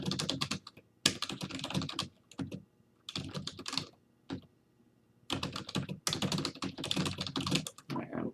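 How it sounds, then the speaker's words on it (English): Hard, fast typing on a computer keyboard in dense bursts separated by short pauses, close and loud, with no talking over it. "I'm typing hard."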